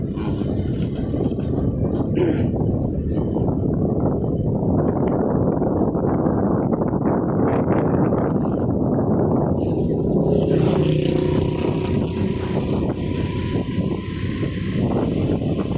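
Strong sea wind roars and buffets continuously against the microphone, a low rumbling gusty noise that stays loud and steady throughout.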